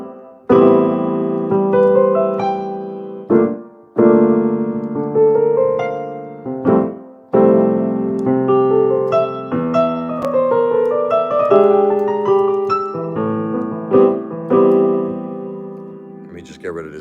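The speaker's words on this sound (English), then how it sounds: "I'm a jazz piano player, so I'll give you like a little example of what it might sound like." Jazz piano plays a gentle thank-you song, with a steady flow of chords and melody running throughout, close and clear, and no voices over it.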